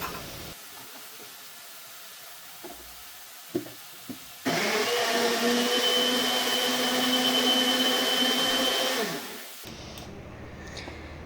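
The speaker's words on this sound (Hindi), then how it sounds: "तो टमाटर मैंने कट कर लिया, इनको भी पीस लेती हूँ।" Mixer grinder blending chopped tomatoes in a home kitchen, starting abruptly with a loud whirring motor drone that holds steady for about five seconds before cutting off, preceded by a few faint clicks.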